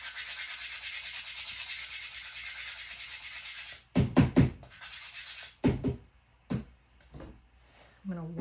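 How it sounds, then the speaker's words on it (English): Sandpaper rubbing the edge of a paper snowflake over a trash can, a steady close rasping for a few seconds, then several louder short scrapes and knocks with pauses between. "I'm going to sand this off over my trash can."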